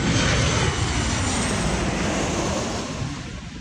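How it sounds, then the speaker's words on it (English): An airplane passes overhead above a backyard garden, its broad engine roar loud and steady before slowly fading as it moves away, with no talking. "we're going to let that plane go by"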